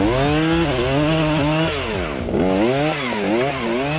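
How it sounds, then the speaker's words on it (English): Husqvarna 535FBX backpack chainsaw clearing young forest, engine screaming loud and close with rising and falling revs as it cuts. "the new backpack chainsaw can make spacing physically easier and more efficient."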